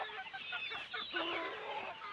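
Chickens cluck steadily on a goat and free-range country-chicken farm, several birds calling close by in a continuous overlapping chatter with no talk.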